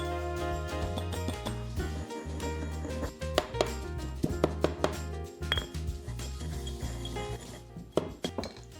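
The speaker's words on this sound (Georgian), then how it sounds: "ნიორი დავნახოთ კარგად, დავუმატოთ მარილი და დავუმატოთ ყვითელი ყვავილი. და ყველაფერი ერთად ჩავნახოთ." Garlic, salt and yellow marigold petals are chopped together on a board with a knife, producing irregular clacks and scraping knocks that grow sharper and denser partway through, close and without talking.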